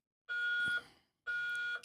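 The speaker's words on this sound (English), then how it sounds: "That is a real alarm." A real alarm goes off inside a live radio studio: two loud, steady electronic tones, each lasting about half a second, with a short gap between them and no talking.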